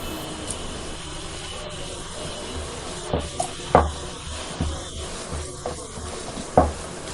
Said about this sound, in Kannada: ಚೆನ್ನಾಗಿ ಫ್ರೈ ಮಾಡಿ ಸ್ವಲ್ಪ ಶುಂಠಿ ಬೆಳ್ಳುಳ್ಳಿ ಪೇಸ್ಟು ಹಾಕಿಕೊಳ್ಳಿ.